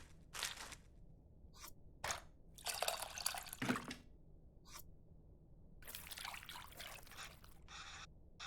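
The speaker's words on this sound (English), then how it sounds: "It looks like I have to mix the tamarind with the water to extract its essence multiple times." Water trickling and dripping as tamarind is mixed into a bowl of water in the cooking game Venba, arriving in short intermittent splashy bursts with quiet gaps between them, no one talking.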